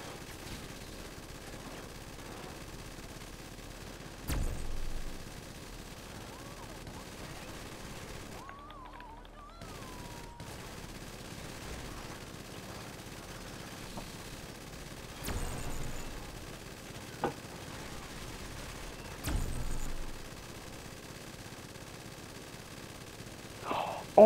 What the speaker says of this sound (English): My gun like charged and just like shot me.